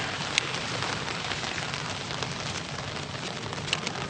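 Steady rain falling outdoors in Iceland, an even, dense patter with a few louder drops, continuous and close, with no voices.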